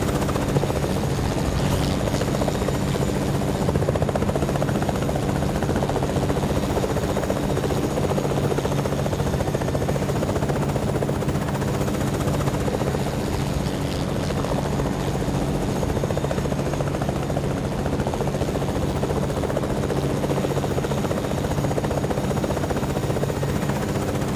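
Helicopter rotor and engine drone, steady and fairly loud throughout with a constant whirring hum and faint high whine, continuous without pauses and no talk.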